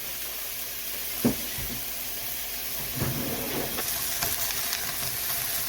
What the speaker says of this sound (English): we're going to get the ground beef in the skillet